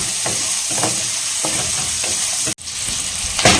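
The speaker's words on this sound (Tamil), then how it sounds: "சேர்த்துட்டு நல்லா ஹை ஃப்ளேம் பண்ணிட்டு சின்ன வெங்காயம் வந்து பார்த்திங்கன்னா நல்லா வதங்கணுங்க." Small shallots frying over a high flame, a loud, close, continuous sizzle with rhythmic stirring scrapes and a brief cut partway through, no voices.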